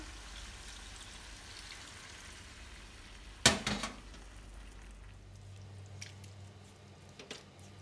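Coconut milk is poured a little at a time into a young jackfruit vegetable stew. A sudden wet splash and squish is followed by a few small drips over a faint, low simmering hiss.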